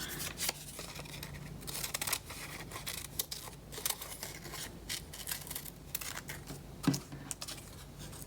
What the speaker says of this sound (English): And now you can cut it out.